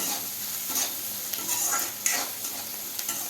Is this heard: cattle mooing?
no